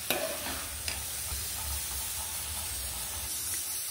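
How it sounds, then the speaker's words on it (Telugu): Paneer frying in a pan, a soft continuous sizzle and hiss of oil with a couple of light utensil taps near the start. "పన్నీర్ వేసుకుని వేయిస్తా ఉంటారు"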